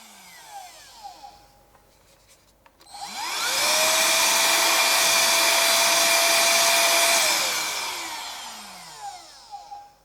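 Parkside 12V mini blower and duster starting up, a small motor whirring up into a loud, steady high-pitched rush of air that holds for a few seconds, then spins down, with faint handling noises around it.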